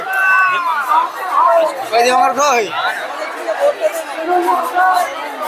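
Dense crowd chatter fills a busy Lakshmi Puja fair, with many overlapping voices, close and loud, forming a continuous babble that never lets up.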